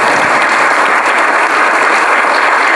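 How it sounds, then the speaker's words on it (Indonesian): An audience at a dhamma talk breaks into dense, steady applause, loud and continuous from start to finish with no voices over it. "berdiri, tepuk tangan untuk Pak Charles."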